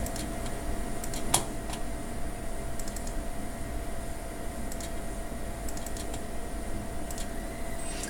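Sparse, sharp computer mouse clicks, single and double, sound while NMR spectrum peaks are integrated on screen; the faint taps come at irregular intervals over a steady electrical hum, with no talking.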